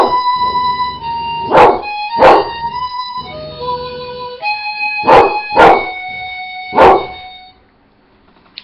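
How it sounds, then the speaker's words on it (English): A dog barks in short bursts, about five sharp barks spread unevenly over a steady harmonica tone that fades near the end. "if you hear barking in the background"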